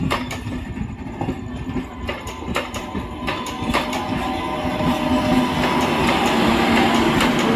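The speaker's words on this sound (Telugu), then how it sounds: "ఇదైతే చిన్న ట్రైన్ ఫ్రెండ్స్, పెద్ద ట్రైన్ అయితే కాదు, అందుకనే ఇంత స్లో అయితే వెళ్ళిపోతుంది" A small passenger train rolls slowly along the track, wheels clicking over rail joints in an irregular rhythm while a steady rumble builds and grows louder toward the end.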